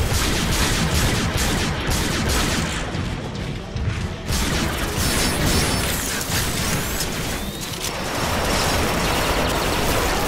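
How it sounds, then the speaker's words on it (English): Gun turrets blaze away in Transformers: Rise of the Dark Spark, a dense, loud, continuous barrage of rapid shots and crashing impacts that fills the whole stretch with only brief dips. "Those turrets are just here to shoot up scraplets."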